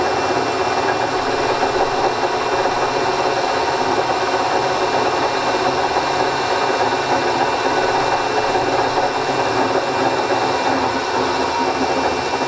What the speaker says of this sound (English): So look, it's a lovely old drill.